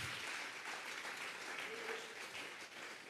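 A church congregation claps together during a Sunday service, a dense, sustained wash of applause that stays fairly even throughout, with some voices mixed in underneath.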